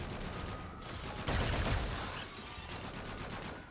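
Rapid energy-round bursts from the Valk rifle, an AK-style energy weapon in Call of Duty: Infinite Warfare, crackle in a dense fusillade that swells loudest mid-clip before trailing into steady game din, with no talking.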